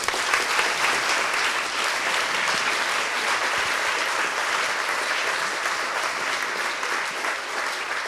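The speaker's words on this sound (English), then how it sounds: "can we all have a big round of applause for the super panel?" An audience at a climate question-and-answer event in Leeds gives a panel a steady round of applause, dense even clapping that holds for several seconds with no talk over it.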